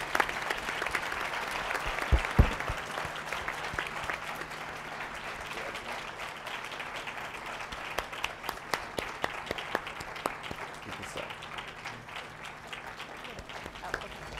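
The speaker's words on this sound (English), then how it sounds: "please give them a round of applause" An audience at a general session of a professional conference breaks into sustained applause, steady clapping lasting throughout with a few sharper claps standing out and some voices underneath.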